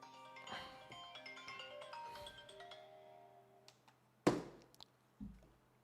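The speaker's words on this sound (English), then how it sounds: "As always, another phone call." A phone rings with an incoming call during a live trading stream, a melodic tonal ringtone repeating over several seconds before fading, followed by a couple of sharp clicks and thumps.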